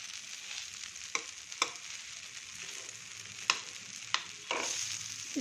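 An instant dosa made from four kinds of flour cooks on a hot pan with a soft, steady sizzle; a handful of crisp spatula taps and scrapes mark it being turned, all close and fairly quiet.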